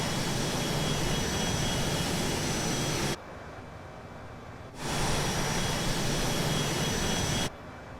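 Phenom 100 jet engines in MSFS 2020 spool down with a loud, steady whine and roar, cutting out abruptly twice into a quieter hum before the engine noise returns.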